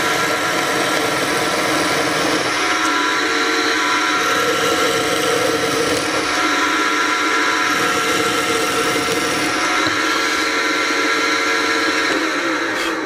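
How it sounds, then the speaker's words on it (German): A power drill bores holes in wood through a drill guide, giving a continuous steady whirring motor drone at high level with no break. "jetzt kann ich hier ganz bequem Löcher bohren"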